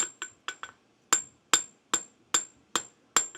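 Steel is hammered on an anvil while a steel calla lily flower is being made, a sequence of about a dozen crisp, ringing metallic strikes, some in quick pairs, each fading quickly, close and loud.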